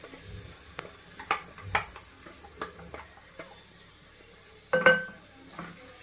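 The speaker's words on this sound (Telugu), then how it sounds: "మిక్స్ వేసింది ఇప్పుడు పచ్చి రొయ్యల్లో వేసేసుకోవడమే" Raw prawns go into a pot of gongura curry with a few metallic clinks and taps of a spoon against the pot, close and quiet, sparse knocks with a louder clatter near the end, no talking.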